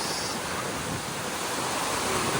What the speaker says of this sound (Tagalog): Sa lakas ng alon.